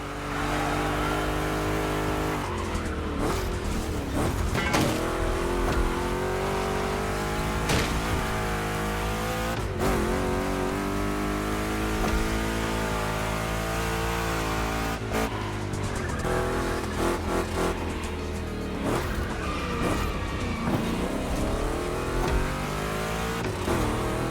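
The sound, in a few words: Chevrolet big-block race cars revving in video game The Crew Motorfest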